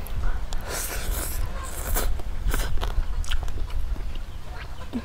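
Crispy pork belly bitten and crunched up close beside a Thai papaya salad with rice noodles, a steady run of crackly, chewy bites and mouth noises with no talking.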